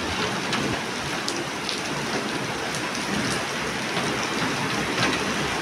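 Heavy monsoon downpour in the Mumbai area: a dense, continuous roar of rain hitting surfaces, steady and loud throughout, with scattered sharper drip impacts and no voices.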